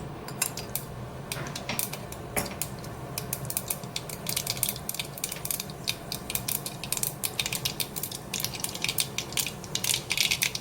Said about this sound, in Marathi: मोहरी छान तडतडली की